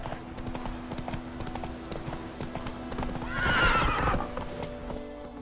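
Roach, the horse in The Witcher 3, galloping with steady hoof clip-clop over ambient game sounds, swelling into a louder burst with a whinny near the end.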